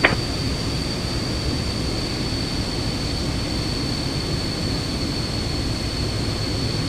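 A jet airliner in Microsoft Flight Simulator 2024 rolls for takeoff, its engines producing a steady, even roar with a thin high whine held over it, unbroken and without voices.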